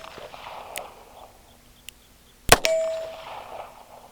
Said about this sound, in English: I'm hitting the legs of my target